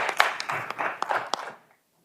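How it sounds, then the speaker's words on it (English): Scattered clapping from a small audience at a university cleantech case competition closes out a team's turn, a handful of distinct claps for about a second and a half before fading into quiet. "Let's give one more round of applause for this team."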